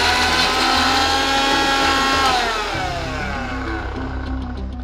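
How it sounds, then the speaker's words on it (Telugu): Kitchen mixer grinder running continuously, grinding roasted red chillies, coriander seeds, cumin and garlic, a loud close steady motor whine with rattling blades that drops slightly in pitch partway through. "ముందు ఈ మిరపకాయలు ధనియాలు జీలకర్ర పల్లె వెల్లుల్లిపాయలు వేయించాం కదా, అవి గ్రైండ్ చేసేద్దాము."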